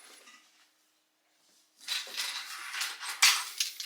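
Keys clink and jingle as they drop into the front pocket of a Stealth Cobra Evade backpack, a short burst of metallic rattling after a near-silent pause, close and fairly quiet.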